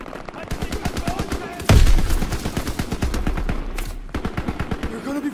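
Rapid machine-gun bursts and rifle fire from Call of Duty WWII combat rattle steadily and loudly, with a heavy blast partway through and the fire continuing afterward.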